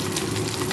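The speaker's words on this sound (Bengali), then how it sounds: "মাছগুলো ভেজে নেব।" Fish sizzles in hot oil in a wok on a gas stove, a dense, steady crackling hiss with no pauses, loud and close.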